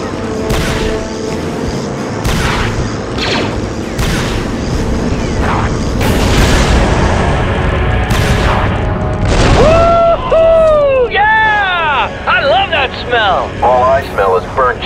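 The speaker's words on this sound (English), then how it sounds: "my scanners show an explosion" Explosions and heavy gunfire from the Star Wars: Republic Commando video game on PS5, loud booms and bursts of blaster fire in a busy battle mix, with sweeping synthetic whines toward the end.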